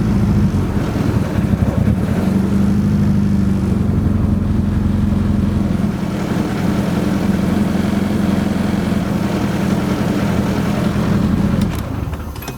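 A Nissan SR20DET engine in a 240 running extremely lean, idling steadily with a loud close low rumble and an even, slightly rough pulse that fades out near the end.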